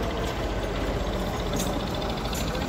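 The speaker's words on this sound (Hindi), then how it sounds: "क्योंकि ट्रैक्टर यहाँ से एक्चुअली गुजर रहा है तो मैं खामोश होता हूँ, आवाज़ बहुत ज़्यादा तेज़ आप लोगों को आएगी" A tractor carrying soil for filling rumbles past on a village road near a canal, its engine a loud, steady chugging drone that fills the whole stretch without talking.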